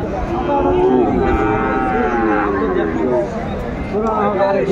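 Sahiwal bull calf at a cattle market lowing in drawn-out moos amid crowd chatter and market noise, with people talking nearby.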